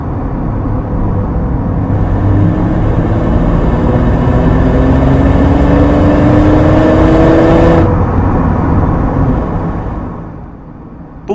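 A Ford Mustang's engine and exhaust drone loudly and steadily, rising in pitch as it accelerates through the gears before easing off and fading near the end.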